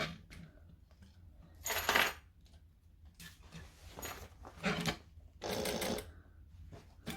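A sewing machine stitches a box shape onto a buckle strap in four short bursts of rapid whirring needle strokes, separated by quiet pauses, close and clear.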